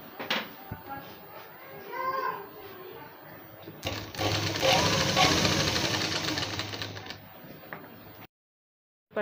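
A sewing machine stitching fabric for a round-cut umbrella frock, a few seconds of steady mechanical running at moderate level, with a person talking before it starts.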